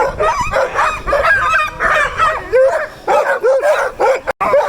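Excited sled dogs in harnesses bark, yip and whine in a dense, continuous chorus close by, with overlapping high yelps and whimpers throughout before a brief break near the end.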